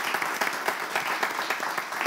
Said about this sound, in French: On applaudit pour tout ce beau parcours de cette grande femme